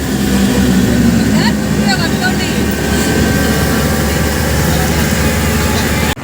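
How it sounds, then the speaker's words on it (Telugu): Road traffic of buses, lorries and a train passing near Gachibowli stadium in Hyderabad, a continuous loud rumble and engine drone heard from inside a moving vehicle, with people talking over it. "Bus, train, lorry."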